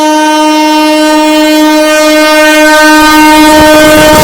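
The Sairang Rajdhani Express overtakes the Magadh Express, its horn sounding a loud, sustained, steady tone close by, with rail rumble building beneath it toward the end.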